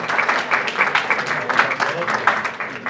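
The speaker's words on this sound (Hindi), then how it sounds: "भरपूर तालियां।" An audience at an awards event applauds, a brisk run of rapid, fairly close clapping with uneven peaks, heard alone for a few seconds.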